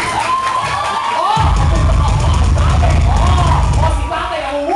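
A comedy show audience breaks into loud, sustained clapping and cheering with shouts, swelling after a short pause and carrying for several seconds.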